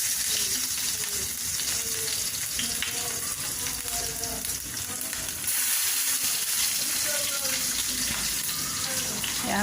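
Onions sizzle steadily in a smoking-hot wok while tomato eggs are cooked, a dense continuous crackle and hiss with a faint scrape of stirring and soft voices underneath.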